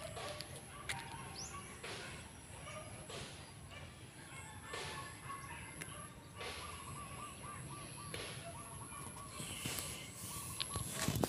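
Birds calling and chirping on a farm in Ilocos Norte, Philippines, with a cow and goats nearby, scattered honks and soft thumps over a constant background rumble.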